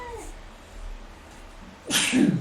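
A single sharp sneeze bursts out near the end, close and loud, after a stretch of quiet room tone during a tabletop card game session.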